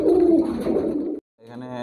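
A pair of pet pigeons coos nearby, planning to lay eggs: a throaty rolling coo fills the first second, breaks off into a brief silence, then a second, smoother coo follows.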